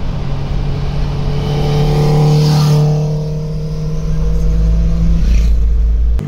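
A car drives along a road, its engine giving a steady, loud low rumble that swells a little in the middle and holds close and unbroken throughout.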